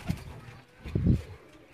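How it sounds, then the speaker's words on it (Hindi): Breeder pigeons at a pigeon loft in Sialkot give a couple of soft, low cooing calls, close and faint, without talk over them. "हम कुछ ब्रीडर कबूतर आपको दिखा रहे हैं"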